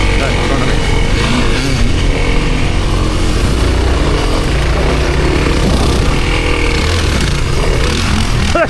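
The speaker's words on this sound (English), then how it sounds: "That's just Shane jumping a KLR to pass me" A KLR motorcycle engine roars loudly on a motocross track, sustained and close as it passes, with heavy engine and wind noise filling the whole stretch.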